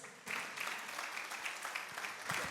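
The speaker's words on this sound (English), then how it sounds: "A big round of applause." An audience at a foundation launch event bursts into applause, the clapping starting suddenly and continuing in a dense, even patter with occasional louder claps.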